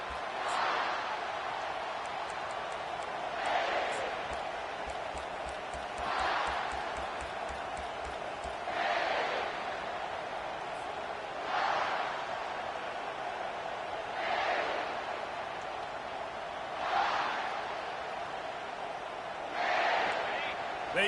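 Stadium crowd at a college football season opener, a steady roar of cheering that swells in repeated waves beneath continuous play-by-play commentary.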